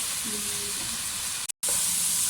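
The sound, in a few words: frying masala for vegetable pulao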